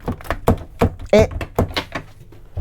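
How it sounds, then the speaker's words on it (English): Several knocks on an RV door from the outside of a 2024 Sunseeker 2350LE motorhome, sharp thuds in an uneven sequence mixed in with a person talking. "I'll knock to Pierre on the outside"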